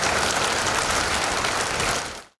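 Dense, loud audience applause for a stage performance at a TV show grand finale, a steady wash of clapping that cuts off abruptly at the end.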